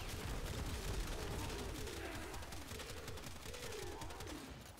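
Buckshot and gunfire in Warframe, fired from a Cedo, as a fast, continuous stream of rapid shots with low rumbling impacts over game background sound, fairly quiet throughout.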